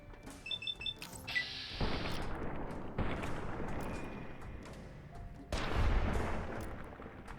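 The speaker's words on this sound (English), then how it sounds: "I forgot I had a holdout weapon." Holdout weapon shots ring out in Fallout: New Vegas: a few sharp, loud reports a couple of seconds apart, each followed by a decaying crash and rumble, with small game chimes early on and no talk.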